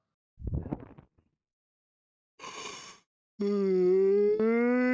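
A man yawning, a breathy groan that breaks off, then a drawn-out nasal moan, followed by a loud sustained voiced yawn tone rising slightly at the end.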